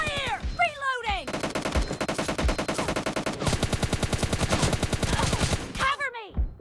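Rapid automatic gunfire rattles in long bursts during a team deathmatch video game, with game announcer voices and callouts heard before and after the shooting.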